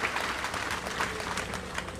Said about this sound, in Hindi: एक ताली लगाएं